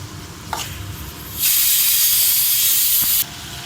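Garlic, tamarind and curry leaves dropped into hot oil, a loud sudden hiss that bursts in, holds steady for about two seconds, then cuts off, following quieter clatter.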